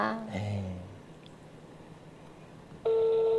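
A telephone call sounds first as a quiet line with a brief voice at the start, then a loud, steady electronic ringing tone cuts in near the end.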